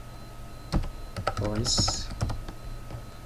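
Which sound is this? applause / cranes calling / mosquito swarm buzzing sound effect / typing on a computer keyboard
typing on a computer keyboard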